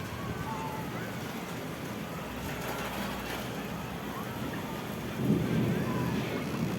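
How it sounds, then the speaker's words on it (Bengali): Thunder rumbles continuously beneath steady rain hiss outside a home during a hot-weather storm. The rumble is low and spread out, swelling louder near the end. "আকাশও ডাকছে, হুড়ুম হুড়ুম হুড়ুম হুড়ুম করছে"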